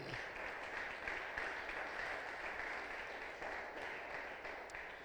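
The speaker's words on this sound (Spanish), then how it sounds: "Vuelve a dar un fuerte aplauso al Rey de Reyes" A church congregation applauds in a steady, dense wash of clapping that holds evenly for several seconds, heard from within the crowd.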